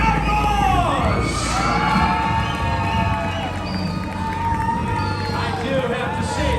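A crowd at a freestyle bike stunt show at Kentucky Kingdom cheers and whoops loudly for the winning riders, with high children's shouts rising above a dense, continuous roar of applause and voices.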